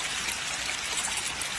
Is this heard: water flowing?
yes